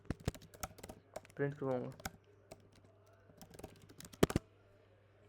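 Python code is typed on a computer keyboard as scattered, crisp key clicks. Brief quick runs and single taps are close but fairly soft, and someone speaks briefly between them.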